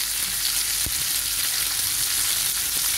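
Salmon fillet browning in butter in a pan, a steady close sizzle and crackle with a few small pops, no voices.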